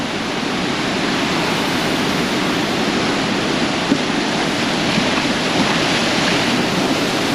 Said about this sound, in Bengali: আসেন আপনাদের দেখাই সমুদ্রের গর্জন